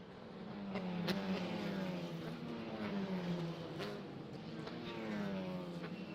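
USF Juniors race cars on Cooper tires circle the VIR track during qualifying, a steady distant engine drone with gently rising and falling pitch, faint and continuous.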